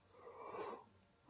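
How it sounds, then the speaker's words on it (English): A person yawns once, a breathy, drawn-out exhalation that swells in the middle and fades, close and fairly quiet, with no talking. "sorry guys, I keep yawning."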